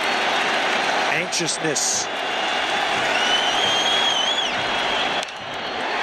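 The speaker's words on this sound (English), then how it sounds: "now the crowd roars" A baseball stadium crowd at a Mets home game swells into a broad, sustained roar, steady and loud, with a broadcaster's voice speaking over it.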